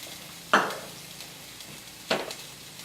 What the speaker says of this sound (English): You can hear a sizzle.